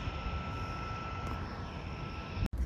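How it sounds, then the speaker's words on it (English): Harbour Air seaplane taxi droning steadily at a distance, a continuous engine hum that holds level throughout with no voices over it. "Must be the Harbor Air taxi."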